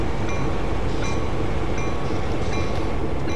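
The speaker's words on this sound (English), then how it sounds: "As you can hear, the GP9 appears to be on" An idling GP9 diesel locomotive in the Train Sim World video game gives a steady, continuous engine rumble with faint rail-yard clanks, heard alone at moderate level.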